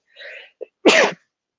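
A single sharp sneeze, preceded by a quick sharp inhale, close and clear against silence.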